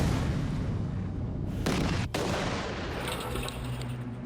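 A fuse-lit cannon firing cannonballs, heard as noisy rumbling fuse hiss then a sudden loud blast around midway with a brief sharp crack, followed by a lingering roar and rumble.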